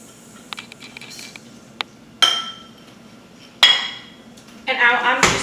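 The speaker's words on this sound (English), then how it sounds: "So I'm going to throw in my butter and both of my sugars." Butter and sugars going into a KitchenAid mixer bowl, a few sharp clinks and knocks of utensils against the bowl over a quiet background, with one longer rattling clatter at the end.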